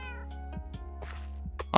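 A cat in a Minecraft-style survival game meows several times in short, close bursts over a steady low background hum, with no talking.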